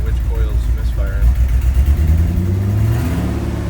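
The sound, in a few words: Ford F-250 engine idling with a misfire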